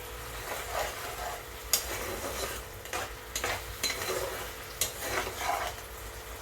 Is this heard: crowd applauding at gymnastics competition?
no